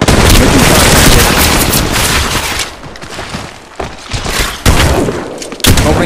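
Rapid gunfire in the Apex Legends Mobile video game roars loudly and continuously, with dense bursts of automatic shots, a brief lull, then sharp renewed volleys near the end.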